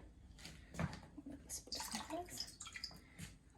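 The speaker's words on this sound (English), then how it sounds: "I'm gonna drain this liquid." Liquid draining off homemade paneer, whey pouring and splashing with scattered drips and wet clatter over about three seconds, fairly close.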